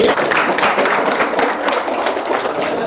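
A crowd claps continuously, a dense, even wash of many hands for a few seconds, fairly loud and close.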